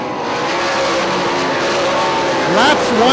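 IRA sprint race cars racing at Hartford Speedway Park, a loud continuous engine roar with rising revs and a sharp pass near the end, under steady commentator talk.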